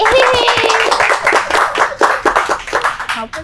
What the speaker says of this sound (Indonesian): Iya, tepuk tangan nih.